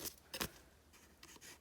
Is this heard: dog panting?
no